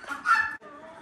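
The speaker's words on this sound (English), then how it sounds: "Now these two chickens here, they're Lavender Orpingtons" Lavender Orpington chickens give a short, close burst of clucking, one throaty note cut off and then a softer trailing cluck, with no talk over it.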